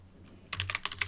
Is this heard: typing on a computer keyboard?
yes